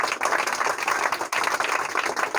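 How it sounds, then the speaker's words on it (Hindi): Loud, dense clapping from a classroom of students, a sustained burst of applause lasting a couple of seconds with a brief dip midway. "जोरदार ताली।"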